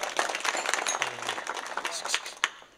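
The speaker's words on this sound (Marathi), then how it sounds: "टाळी वाजवा." An audience at a Marathi kirtan bursts into brief, dense clapping, a quick patter of many hands that fades after a few seconds.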